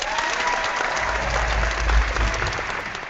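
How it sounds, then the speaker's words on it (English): Dense, steady applause at a holiday-themed social media panel chat, with the host clapping along with the crowd, continuous and moderately loud throughout. "I'm going to clap in advance"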